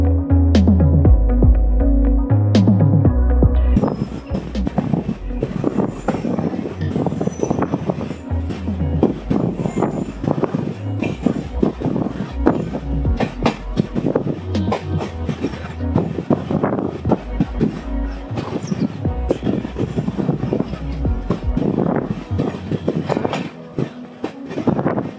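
A passenger train runs on rails between Dimapur and Jorhat, a steady loud rumble with rhythmic clacking and rattling of the carriages that continues throughout, after a brief stretch of other sound at the start.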